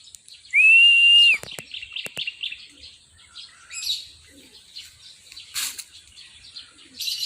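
Birds circle overhead on a second round after leaving a rooftop, with a loud, sustained whistle at the start, then scattered chirps and brief wing flutters, fairly close.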